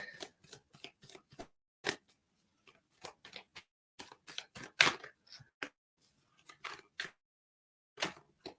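Old tarot cards drop and slap onto a surface during a psychic reading, making a series of sharp, papery clicks and flicks at an uneven rhythm, close and fairly quiet.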